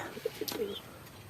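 Racing pigeons coo and call in a few short, soft bursts close by, a brief cluster of low murmuring notes with faint chirps, set against quiet outdoor background.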